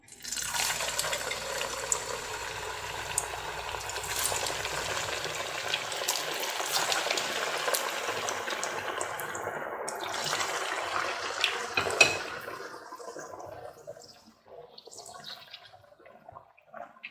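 Medu vada batter drops into hot oil in a kadai and fries with a dense, steady bubbling sizzle that runs loud for about twelve seconds, then thins to a quieter, sparser crackle.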